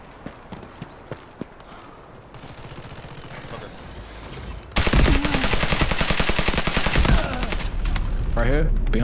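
Automatic gunfire in Delta Force Hawk Ops: a few sharp distant shots at first, then a loud burst of rapid rifle fire takes over at close range, with voices talking faintly underneath.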